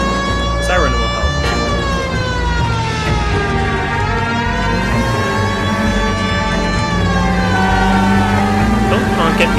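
A police car siren wails continuously with rising and falling tones from a car being driven in the video game L.A. Noire, loud and close over engine and traffic noise, with a voice speaking over it.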